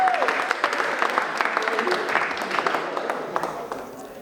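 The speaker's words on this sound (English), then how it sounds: "So please give her a little bit of clap." Audience applause for the host at a semi-retirement celebration in a renovated museum, a steady spread of clapping from a modest crowd, with scattered sharp claps near the front, slowly tapering off.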